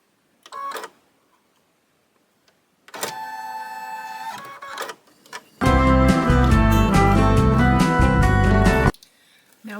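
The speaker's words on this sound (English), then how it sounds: "Now we have our placement line stitched." A home embroidery machine stitches the placement line for a Kimberbell Petals & Prose book cover, its rapid mechanical whirring running in short bursts, the last burst loud and sustained with a strong rhythmic hum.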